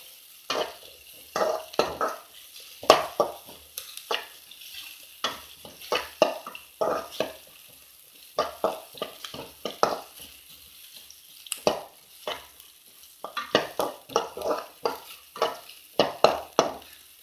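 Onion and coriander seeds fry in a pan as a spoon stirs them in repeated scraping strokes, close and rhythmic over a faint continuous sizzle, with brief pauses between bursts.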